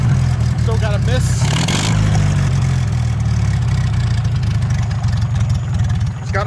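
A 1951 Farmall H tractor engine with a misfire runs loudly and close by, its steady chugging broken by uneven stumbles, with a voice briefly audible over it.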